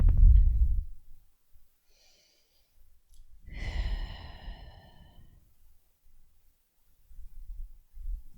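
Slow, deep breaths during a short yoga flow: a strong exhale at the start, then a long audible sigh-like breath in the middle, close and quiet with near silence between.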